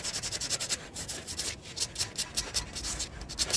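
Scraping dirt away from around a car's ABS wheel-speed sensor with a hand tool, a series of close, rhythmic gritty rubbing strokes repeating steadily without pause.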